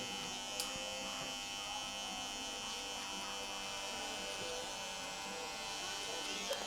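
Electric hair clippers fitted with a fade blade buzz steadily and close up while cutting hair, a constant motor drone running throughout with slight variations in load.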